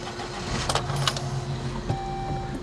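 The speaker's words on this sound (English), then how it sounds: "Okay, let's go ahead and turn the vehicle on." A Saab 9-3 under ECU repair starts up with a key jingle and cranking, then settles into a steady near idle with a faint whine, no talk.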